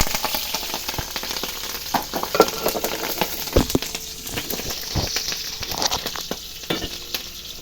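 Green chili sizzles and crackles in hot oil in a pan, a dense, continuous frying hiss with scattered pops and occasional stirring scrapes, close and fairly loud.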